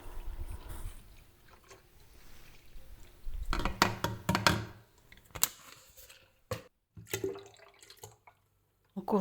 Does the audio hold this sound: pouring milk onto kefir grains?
yes